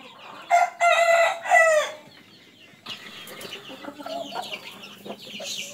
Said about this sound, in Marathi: 28 दिवसाचे पिल्ले झालेले आहेत आपले